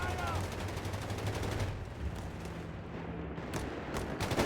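Machine gun fire from a church position in Company of Heroes 3, a Wehrmacht versus US Forces match, comes as rapid, evenly spaced rattling bursts, dense at the start and returning later, with a commentator talking over the battle noise.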